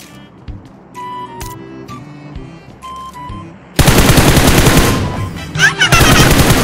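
Gunfire in the mobile game PUBG Mobile: a few sparse clicks and small shots come first, then a loud, sustained burst of rapid automatic fire fills the rest.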